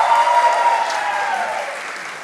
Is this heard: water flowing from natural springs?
no